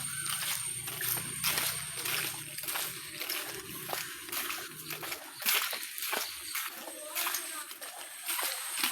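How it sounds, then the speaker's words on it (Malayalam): Water rushes and splashes close by at a waterfall, a steady broadband wash with repeated sloshing bursts, while voices talk over it. "അപ്പോൾ നമ്മൾ വെള്ളച്ചാട്ടത്തിൻ്റെ അടുത്ത് എത്തിയിട്ടുണ്ട്"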